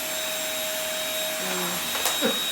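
A vacuum cleaner runs steadily on a household floor with a loud, continuous drone, joined by a few brief faint background noises near the end.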